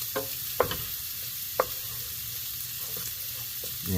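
Shrimp stirred with lime juice in a pan, a quiet sizzle under a few sharp scraping knocks of a utensil against the pan, with no talking.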